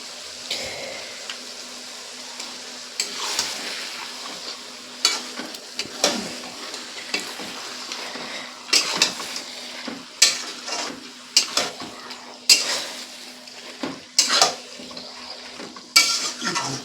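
Chicken stir-fried in cooked spice masala for a cumin chicken curry: sharp metal clinks and scrapes of a spoon against the pan over a soft, steady sizzle, with irregular bursts of stirring.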